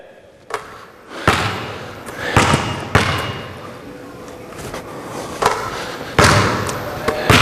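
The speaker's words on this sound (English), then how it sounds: "Dribble, pick up, shoot." Basketball dribbled and shot on an outdoor court during fingertip-control practice: several sharp, loud bounce thuds at irregular intervals over a steady background, with a spoken voice heard in the gaps.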